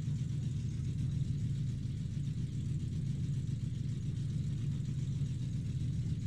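A car engine in Farming Simulator 19 hums at a steady, low rumbling drone while driving, close and unchanging throughout, with no talk over it.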